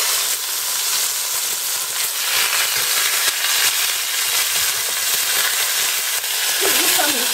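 Beef sizzles loudly in a hot pan after being turned over to its other side, a dense, continuous frying hiss with crackles close up, and a brief clatter near the end, with no talking.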